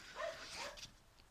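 A distant dog lets out a couple of faint, high yelping barks in quick succession, then a softer trailing whimper, heard alone at low volume.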